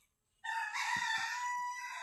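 A rooster crows once, loud and close, a long strained cock-a-doodle-doo that holds its pitch before trailing off.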